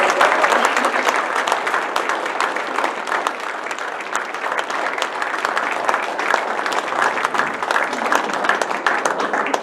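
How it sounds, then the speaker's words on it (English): Warm applause for candidates at a lieutenant governor candidate forum in Hawaii, a sustained roomful of clapping that holds a steady, fairly loud level throughout. "let us give a real warm thank you round of applause to our candidates."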